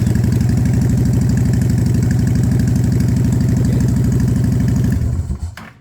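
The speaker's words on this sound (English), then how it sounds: "So let's give it a test and see if she starts." A motorcycle engine idles steadily with a loud, close, even mechanical pulse, then shuts off and falls quiet near the end.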